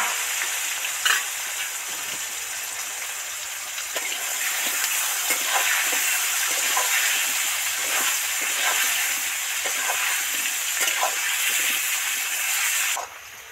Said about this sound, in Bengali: আলুগুলো তো সব ডিপ ফ্রাই করে ভেজে নিলাম